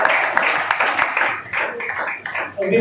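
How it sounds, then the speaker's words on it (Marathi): An audience applauds a veteran Dashavatar theatre artist, Jiji Chodnekar, as he is called to the stage, a steady patter of many hands clapping at moderate distance, thinning slightly toward the end. "जोरदार टाळ्या"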